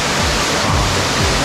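A large mountain waterfall in Seoraksan's Twelve Fairies Valley roars in a dense, steady rush of crashing water, loud and close with no break.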